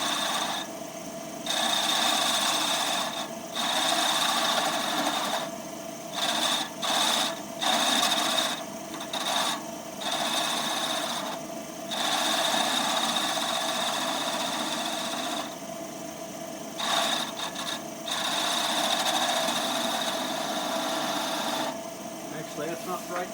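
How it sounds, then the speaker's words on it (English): A wood lathe spinning a 2x4 goblet as a detail gouge cuts a bead, a steady whining hum with scraping cuts that stops and starts in repeated bursts, with someone talking in the pauses. "Let me get my detail gouge. Let's see what we can do about making a bead right in this area right here."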